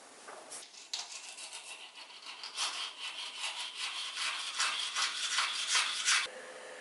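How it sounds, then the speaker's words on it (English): Gemstone ground on a flat piece of copper with coarse Naxos stone powder mixed with olive oil, a close gritty back-and-forth scraping that builds in strokes and stops abruptly near the end. "The stone is further shaped to the desired dimensions on a flat piece of copper using a coarse Naxos stone powder."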